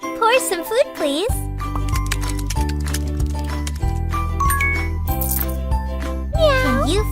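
A cartoon cat in a pet care video game gives two short, high sliding meows, one at the start and one near the end, over bouncy looping game music with tinkling chimes.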